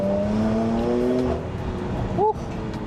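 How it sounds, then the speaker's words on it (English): A Ferrari sports car engine revs in a mountain setting, its tone rising steadily and then giving a short sharp blip near the end, fairly close and with no talk over it. "A beautiful Ferrari."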